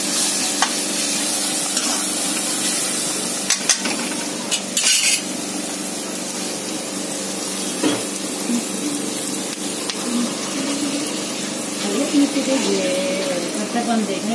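Ginger garlic paste with green chillies and cumin fries in a pan with a steady, close sizzle, and a few sharp metallic clinks of a spoon against the pan sound over it.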